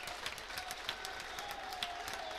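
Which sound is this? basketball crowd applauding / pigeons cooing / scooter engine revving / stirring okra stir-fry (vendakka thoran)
basketball crowd applauding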